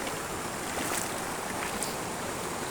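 Fast river current rushes in a steady broadband roar with wind mixed in as the river is crossed, close and continuous with no speech.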